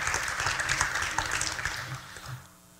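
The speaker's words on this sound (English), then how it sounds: "so if we could give them a round of applause" An audience in a school theater applauds at a high school Hall of Fame ceremony, a dense patter of clapping that swells early, then thins and fades out near the end.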